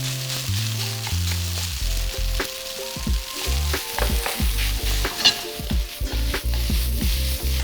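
Jambalaya with shrimp, onion, cold rice and ramen seasoning frying in a pan: loud continuous sizzling with repeated scraping stirs and clanks throughout, nearby and alone.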